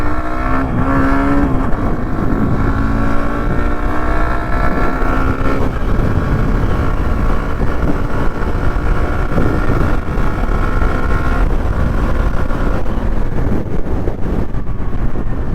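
A Hero Xtreme 125R motorcycle at speed on the road gives a loud, steady engine drone mixed with constant wind rush, its pitch climbing gradually and never dropping out.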